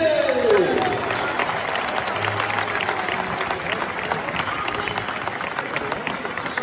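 A stadium crowd applauds at an FC Lorient centenary legends match ceremony, broad sustained clapping with some cheering, while a public-address announcer talks over it; a short whistle-like sweep opens the moment.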